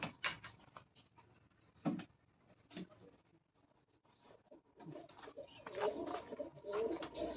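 Soft pigeon coos with scattered rustles and clattering knocks nearby, quiet at first and growing fuller toward the end.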